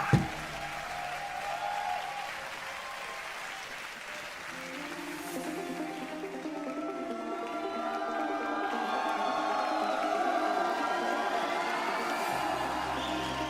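A large arena crowd applauds and cheers after Germany's Eurovision 2025 performance. The applause is steady and sustained, with a bright tonal musical layer rising over it partway through.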